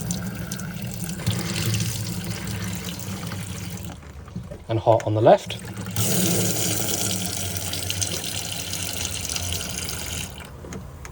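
A campervan kitchen's hot and cold sink tap runs, a steady wash of flowing water under a voice describing the fittings, with a short pause and a few splashy bursts in the middle before the stream resumes.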